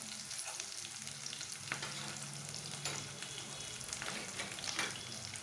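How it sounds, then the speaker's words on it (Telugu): Chopped green chillies fry in a hot pan for idly upma, a steady close sizzle with soft stirring scrapes throughout and no talk. "సో దీన్ని బాగా మిక్స్ చేసుకోవాలండి, వేయించుకోవాలి."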